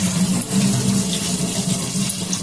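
Tap water runs steadily over noodles being rinsed in a basket, as for making sitabhog from chowmein noodles, a continuous close splashing wash with a low hum beneath and no talk.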